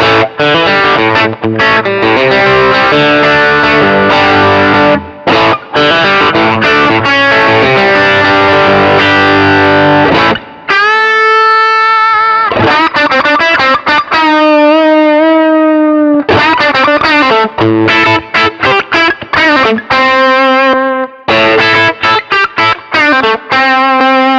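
Loud electric guitar with gritty overdriven distortion from a Tube Screamer pedal, strummed chords and sustained single-note runs with brief pauses, played alone.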